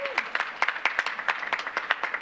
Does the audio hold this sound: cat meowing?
no